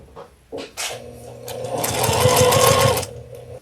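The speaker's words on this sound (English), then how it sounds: "I'm just going to take these two pieces and go over the sewing machine" A sewing machine whirs in short starts, then runs steadily for over a second of rapid, close stitching of patchwork quilt pieces before stopping.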